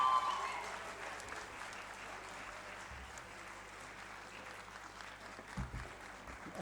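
Audience applause as a guest is welcomed onto the stage at an event in Pakistan, steady broadband clapping that swells at the start and then holds at a moderate, even level throughout.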